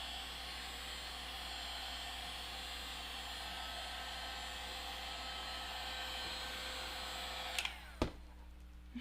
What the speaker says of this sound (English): Yeah, this heat gun doesn't get that hot. It won't burn the foam.